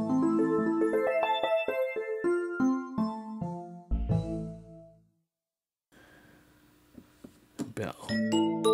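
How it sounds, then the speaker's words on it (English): A Roland FP-E50 digital piano plays its dreaming harp tone as a bright cascade of plucked notes stepping downward. A short silence follows, then a rising flourish of more harp-like notes. "Dreaming harp."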